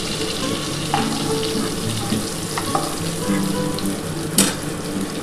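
Prawns fry in a pan for a chilli prawn dish, giving a steady, close sizzle with a few faint clinks and small bursts of spatter.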